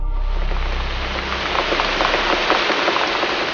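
Steady rain pattering on a surface, a dense, even hiss of drops close by, loud and continuous.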